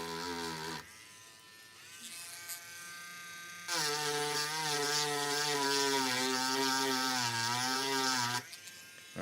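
A rotary tool whines as it cuts a trace on a Sega Mega Drive circuit board, running in loud buzzing bursts whose pitch rises and dips under load, close and without voices.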